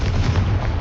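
A Confringo spell explodes in Hogwarts Legacy, a short, loud, full-bodied blast with a deep rumble that fills the whole moment.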